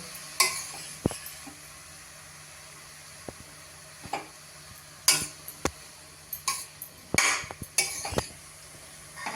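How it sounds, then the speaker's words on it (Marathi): Grated carrot sautéing in ghee for carrot halwa: a soft, quiet sizzle under sharp, irregular clinks and scrapes of a spoon stirring against the pan. "तुपावर घातलाय आपण किस, 1-2 मिनिटच परतणार आहे."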